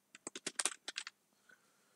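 A quick run of crisp keystrokes on a computer keyboard, about a dozen close taps in a fast burst, then a couple of fainter clicks, quiet and alone with no voices.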